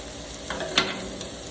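Sliced potato crisps fry on a Blackstone griddle with a steady close sizzle, broken by a brief scrape as they are turned.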